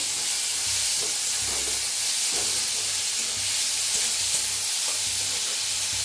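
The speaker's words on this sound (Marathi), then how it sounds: "थोडीशी हिंग आणि कांदा असा चोपरनं बारीक असा करून घेतलाय बघा तर छान असं भाजून घेऊया" Finely chopped onion with a pinch of asafoetida fries in a pan, giving a loud, continuous sizzle and hiss with faint stirring knocks underneath, and no talking.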